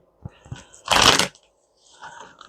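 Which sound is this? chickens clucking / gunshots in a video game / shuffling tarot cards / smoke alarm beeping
shuffling tarot cards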